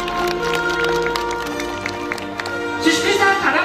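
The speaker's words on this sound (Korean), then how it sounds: "큰 박수로 환영해 주시기 바랍니다." An audience claps to welcome local association leaders and civic groups at an evening festival on Geogeum Island, Korea. Moderately loud clapping runs throughout under an amplified announcer's voice and swells toward the end.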